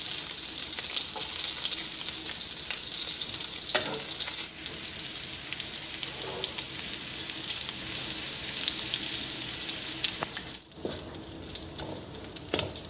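Garlic frying in oil in a pan for a Filipino stir-fried vegetable and pork dish, giving a steady bright sizzle throughout with occasional soft stirring clinks, close up and without talk.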